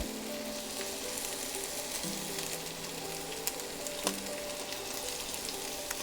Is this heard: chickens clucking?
no